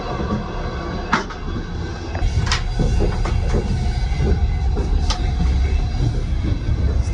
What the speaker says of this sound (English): Yeah, it's a really old train.